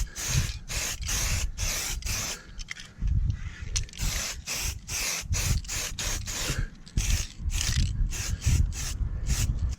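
Short bursts of spray paint hiss onto a car body panel as another coat goes on, repeated quick pulses in an uneven rhythm, close and fairly quiet, with no talking.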